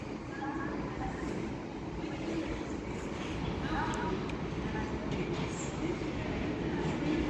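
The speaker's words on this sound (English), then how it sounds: "And now coming in is an LNER 225 set from Leeds to" An LNER 225 passenger set from Leeds with locomotive 82225 at the front rolls into Doncaster station, a loud continuous rumble of wheels and carriages with faint squeals and clicks.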